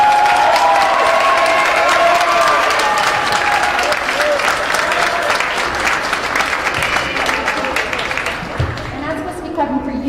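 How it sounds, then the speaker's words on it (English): A graduation audience at an adult education ceremony gives sustained applause, a dense, loud wash of many hands clapping with some crowd noise that slowly thins toward the end. "give your family, your friends, and your people a nice round of applause"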